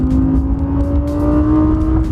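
An Audi R8 V10 Plus's V10 engine howls at high revs near 8,750 RPM, a loud, sustained, smooth tone with rich harmonics and no pauses.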